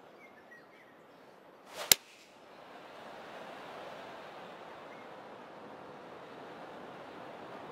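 Steady broadband wind blows across the golf course in PGA 2K21, a continuous mid-level rush that swells after a sharp whip-like crack near the two-second mark and holds on evenly to the end.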